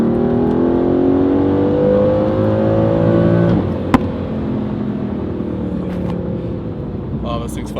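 An Aston Martin engine revs hard under acceleration, a loud climbing roar that rises steadily for about three seconds, then drops back with a brief click into a lower steady drone.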